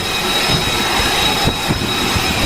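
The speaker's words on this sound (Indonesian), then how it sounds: "Rekaman yang dirilis oleh Senkom pada hari Minggu menunjukkan sebuah pesawat bergerak ke posisi dek penerbangan sebelum lepas landas" Jet aircraft taxiing across the flight deck of the USS Boxer, a steady loud roar of engine noise with a high whine running throughout, no voices.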